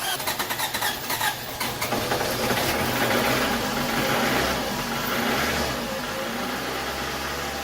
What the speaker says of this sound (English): finally started. We'll need to let the car idle for 15 minutes. It will sound pretty rough